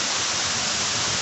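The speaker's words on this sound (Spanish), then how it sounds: "Ahí está la cascada, mira." Waterfall, a steady broadband rush of falling water, loud and continuous with no breaks.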